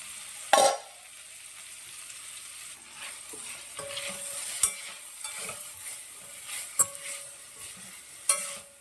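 Cauliflower gobi fries in a pan with a soft, steady sizzle, broken by occasional sharp clinks and scrapes of stirring; no talking.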